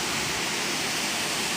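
Karasu Waterfall on the Sabun stream in Düziçi, Osmaniye, pours in a steady, loud, broadband roar of falling water that stays even and continuous throughout, with no voices over it.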